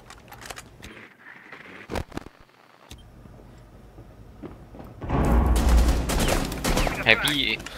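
Gunfire from the tactical shooter game Rainbow Six Siege: a couple of sharp isolated shots early, then a loud dense burst of rapid fire in the closing seconds over a busy game soundscape.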